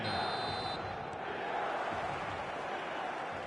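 A dense, steady roar of a large stadium crowd, loud and unbroken throughout, with no distinct voices standing out.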